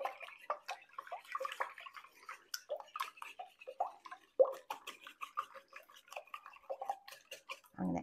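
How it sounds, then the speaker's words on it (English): Eggs beaten with a whisk in a bowl for Chinese restaurant-style egg foo young, quick irregular clinks and taps close by, rising and falling in fast bursts. "Now we're going to whisk them up."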